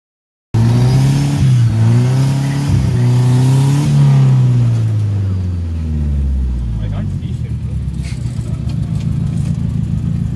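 A Toyota Corolla's engine revs hard while drifting, the loud wavering note climbing and dipping with throttle, then settling into a steady rumble as the car keeps going, close to the microphone.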